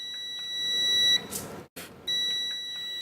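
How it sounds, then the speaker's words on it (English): Thin, steady high-pitched beep from a toy remote controller as multimeter probes touch its solder pads, holding for about a second, cutting off briefly, then resuming, with soft clicks and handling noise between. "Listening for the beep and seeing the voltage register on the multimeter."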